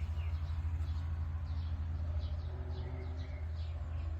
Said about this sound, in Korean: 하루 종일 이렇게 정원에 와서 이제 새들이 놀고 있네요